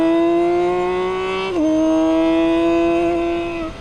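A BMW K 1600 GTL six-cylinder touring motorcycle engine holds a loud, steady, smooth drone. Its pitch rises slightly, dips briefly as the revs shift, then settles and fades near the end.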